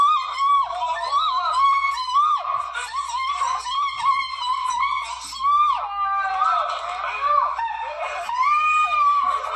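High-pitched screaming and shrieking voices overlap loudly and continuously, rising and falling in wavering cries with bursts of laughter mixed in.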